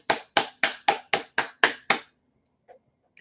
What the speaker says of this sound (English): Let's all clap for Kelly.